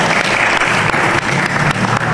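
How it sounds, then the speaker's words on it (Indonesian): An audience at a South Sumatra drawing-month cultural oration breaks into dense, steady clapping that holds at an even, loud level for the whole stretch, with no voices over it. "Tepuk tangan untuk Sumatera Selatan."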